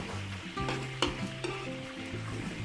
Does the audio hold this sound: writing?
no